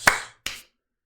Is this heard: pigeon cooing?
no